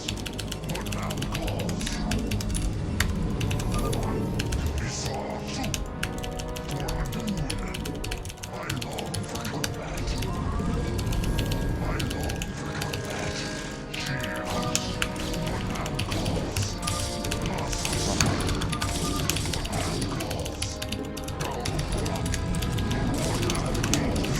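Rapid, continuous clacking of a tenkeyless mechanical keyboard runs throughout, mixed with game sounds and someone speaking over it during a StarCraft match.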